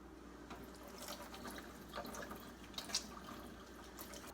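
Molasses is poured into a bowl for gingerbread cookies, giving a soft, continuous liquid trickle with a couple of faint splashes, close and quiet.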